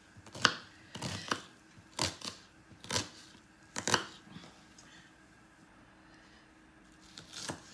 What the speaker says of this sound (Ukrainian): ми нарізали цибульку